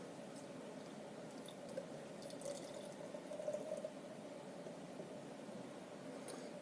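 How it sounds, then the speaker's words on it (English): Bale Breaker Fresh Off The Farm IPA being poured with a heavy, foaming head, giving a soft steady fizzing and trickling of liquid with small splashes, faint and continuous throughout. "I don't know how to pour beer today because this head's out of control"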